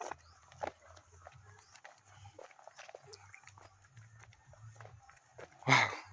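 Dogs bark in a suburban area during a farming season, a few sharp yelps scattered over soft outdoor noise, with one louder bark near the end.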